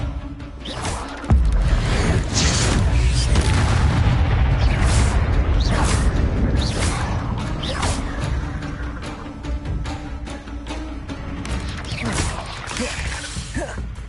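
Confringo explosive spells in the video game Hogwarts Legacy, a heavy booming blast followed by a long, dense stretch of crashing bursts and rumble, loud and close.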